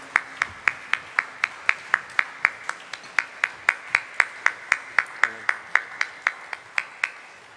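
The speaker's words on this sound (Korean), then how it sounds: "우리 퇴장할 때까지 박수하겠습니다" A church congregation claps in steady rhythmic unison for a worship choir, about thirty evenly spaced sharp claps at close range with no talking.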